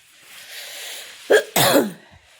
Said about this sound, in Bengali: যে কি খুসখুসে কাশি